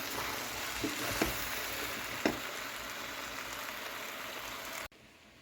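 Soya meat curry sizzles steadily in a frying pan while being stirred and mixed, with a few sharp scrapes of the spoon against the pan before the sound cuts off abruptly.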